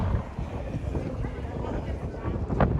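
Strong wind buffeting a microphone high up on the ramparts of Edinburgh Castle, a steady loud roar and rumble that gusts throughout with no break, with a brief sharper gust near the end.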